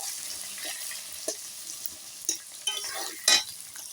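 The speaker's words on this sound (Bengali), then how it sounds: "চলো ওগুলো একটুখানি ভাজা ভাজা করে নিই।" Potatoes coated in salt and turmeric frying in a pan, giving a steady close sizzle with scattered sharp clinks and scrapes of stirring, no talking.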